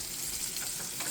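Pork chops sizzle and fry in a hot pan during a home cooked meal on a farm, a steady, dense, close crackle with no talking.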